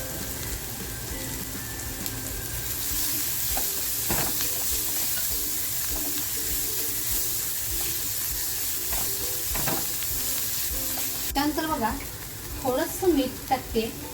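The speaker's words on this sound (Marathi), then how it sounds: "आता जी लसूण घेतली आहे कापून ती लसूण टाकते त्याच्यानंतर मिरची टाकते" Chopped garlic and chilli frying in a pan for stuffed Bombay duck prawn rolls, a steady close sizzle with occasional stirring scrapes, and a voice talking over it near the end.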